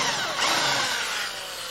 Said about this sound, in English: We're using a 5/8 fly bit here, and what this is going to do is give us enough room to throw a plug in there.